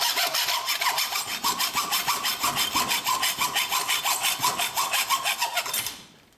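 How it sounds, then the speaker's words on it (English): A cheap 20-year-old hacksaw cuts through an O scale model freight car coupler clamped in place, making a close, loud, rhythmic back-and-forth rasp of about twenty strokes before stopping abruptly, with no one talking. "And I'll grab my cheap 20-year-old hacksaw"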